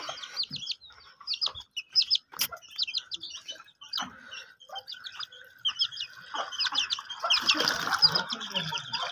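Small chicks cheep in rapid, high clusters close by, with scattered soft clucks, pecking taps and light movement around them as they feed on grain.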